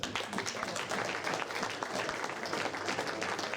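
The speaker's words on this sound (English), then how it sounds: "To all the umpires and adjudicators, warm round of applause." Warm applause for umpires and adjudicators at a national pool teams final, a dense, continuous roar of many hands clapping at steady loudness throughout.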